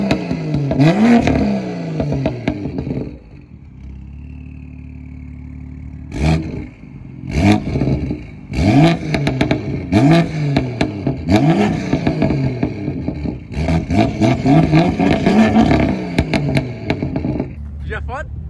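BMW M2 CS with a loud aftermarket exhaust revving repeatedly, quick aggressive blips separated by a lumpy idle, close and loud, with brief talking near the start.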